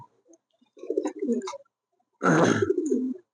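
King pigeons give two distinct cooing calls up close, a shorter one followed by a louder, fuller coo after a brief pause, with quiet surroundings.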